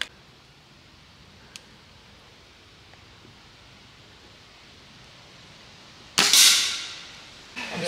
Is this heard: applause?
no